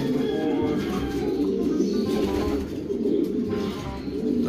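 Racing pigeons coo softly and continuously at a loft as they are gathered for a one-loft race, with a murmur of background activity around them.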